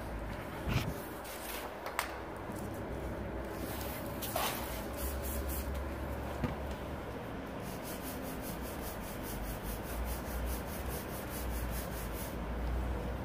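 Steady scraping and rubbing as sticky adhesive residue, softened and lubricated with WD-40, is worked off a smooth surface, a continuous close, dry friction texture with a few brief sharper scrapes and no talking.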